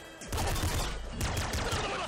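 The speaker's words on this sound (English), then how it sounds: "Let's just hold down the smart gun button and kill everyone." Rapid automatic gunfire from the smart gun in the video game Nuclear Throne, a dense continuous burst of shots with a brief pause before firing resumes, loud and close with no talking.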